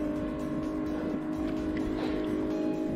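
A motorboat runs near a beach at Gili Trawangan off Bali, on a choppy day, its engine giving a steady droning hum with a few faint splashes over about three seconds, with no voices.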